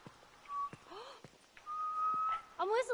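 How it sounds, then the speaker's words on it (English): A character whistles in the game The Last of Us, a few short tonal whistled notes including a rising glide and a long held tone, interrupted by brief clicks and sounds, no words. "I'm whistling."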